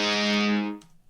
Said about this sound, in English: I brought in some distorted guitars for this second part